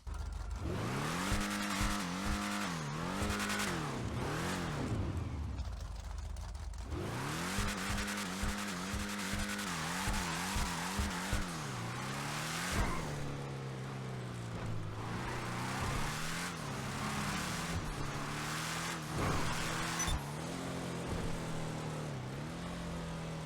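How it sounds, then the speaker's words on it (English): In GTA Online, a Lampadati Viseris sports car's engine revs up and down repeatedly through rising and falling gear pulls. Tires squeal and skid at times, and the engine stays loud and close throughout. "I think that this is actually a pretty good engine sound overall"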